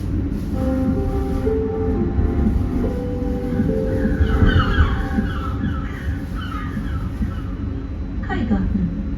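Riding the Bergen Bybane light rail tram gives a steady rumbling interior drone with rising and falling motor whine and squealing wheel tones, while a voice talks over it.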